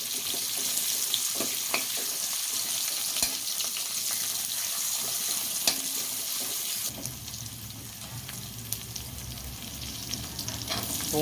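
Finely chopped garlic fries in a pan on top of toasted fennel powder for a fish puttu dish, giving a steady sizzle with scraping stir strokes; the tone shifts partway through.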